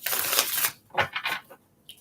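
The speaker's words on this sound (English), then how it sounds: "anytime I bring out a new deck that has not been used in the readings, we're going to give them a shuffle or two and a cut" A new tarot card deck being shuffled and cut, with a long riffling burst of cards followed by a few short, close slaps and shuffles, with no talk.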